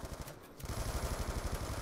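Rapid automatic gunfire from the video game Call of Duty: Black Ops 2 rattles in a fast, even burst after a brief quieter moment, fairly faint and with no talking.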